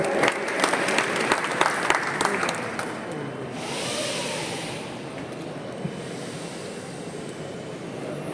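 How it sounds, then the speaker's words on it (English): Audience applause at an India International Convention airport event, a dense clatter of many clapping hands that fills the first three seconds and then thins into a softer, steady crowd wash. "Let's have a huge round of applause"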